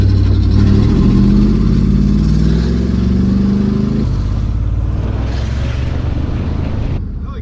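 A 1979 Chrysler 300 engine, running without an accelerator pump, is revved loud and close, its pitch climbing steadily before dropping abruptly and settling into a lower, rough drone.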